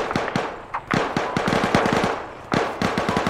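Rapid bursts of small-arms and machine-gun fire in Arma 3, sharp cracks in irregular clusters with brief pauses, loud and close, no talking.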